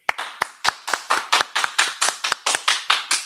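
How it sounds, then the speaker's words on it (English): A small group claps in a steady, loud, close rhythm, sharp hand claps repeating roughly three times per second with no talk over them. "clap it up"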